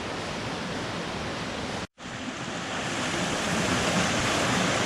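A river rushing through a canyon on Vancouver Island, a dense continuous roar of flowing water with no breaks except one momentary cut, steady and close.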